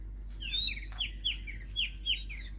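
Small birds chirp around nest boxes at a resort on a quiet morning: a series of bright, sweeping tweets repeat every half second or so at moderate volume, with no talking.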